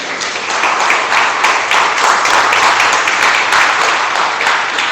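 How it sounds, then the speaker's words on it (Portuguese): A church congregation applauds, loud sustained clapping from many hands that swells and holds evenly for several seconds, close and full. "Você pode aplaudir o Senhor?"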